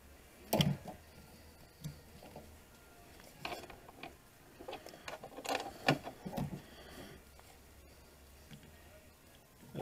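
Socket wrench ratcheting down the wiper motor bolts on a 1999 Ford Ranger, giving scattered bursts of close clicking and ticking with pauses between runs.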